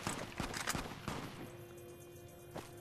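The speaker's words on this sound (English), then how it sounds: "I hear gunshots." Gunfire in the video game Fallout New Vegas: several sharp, distant-sounding shots in an irregular burst early on, then a lone later shot, fairly faint over a quiet background.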